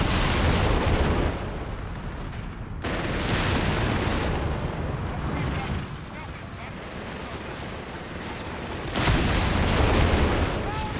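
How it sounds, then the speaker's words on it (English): Anti-tank gun firing during a Company of Heroes 3 battle, heavy booming blasts over a constant din of war noise, with a loud burst near the start and another toward the end, and talk running underneath. "The AT gun spins around. Takes one shot."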